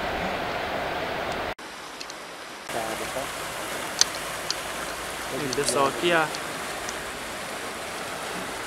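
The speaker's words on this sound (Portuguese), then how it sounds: "aqui é a vazão da água que desce lá pelo duto e faz gerar lá a energia." Water rushes out of a hydroelectric plant duct into a river at a plant in Baependi, Minas Gerais. The roar is steady, broadband and continuous, with people talking over it.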